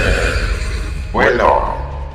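A horse lets out one loud, close neigh in a Tagalog horror series scene, cutting through a steady background hum as a voice speaks nearby.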